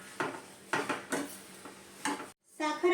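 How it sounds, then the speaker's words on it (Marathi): Carrot halwa being stirred with sugar in a pan over low heat: a few distinct scraping, clattering strokes of a spoon against the pan, separated by short pauses. "साखर ही या गाजरामध्ये व्यवस्थित अशी मिक्स करून घ्यायची आहे"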